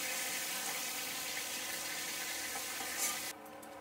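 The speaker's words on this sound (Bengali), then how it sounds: "আর যে কটা ছিল ও কটাও ভেজে নিচ্ছি হালকা।" Baim eel pieces lightly frying in hot oil, a steady dense sizzle that runs continuously and drops off near the end.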